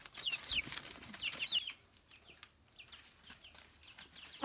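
Young silkie chickens cluck and peep in scattered bursts outdoors, moderately close, with quieter pauses between calls and no talking.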